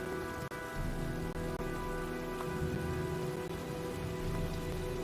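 Steady storm rain in the Heavy Rain video game, a dense continuous hiss of drops on surfaces under a faint low hum, with a couple of brief dropouts.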